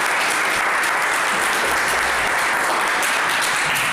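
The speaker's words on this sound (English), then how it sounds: "big round of applause for" Dense, sustained audience applause fills a school hall in Dublin, a steady wash of many hands clapping at once for about four seconds with no clear pauses or voices.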